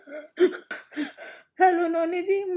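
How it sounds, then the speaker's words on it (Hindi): A few short, rough coughing bursts close to the mic, followed by a sustained voiced, tonal sound like humming or a drawn-out vocal. "जब भी खांसी आती है मुझे लगता है"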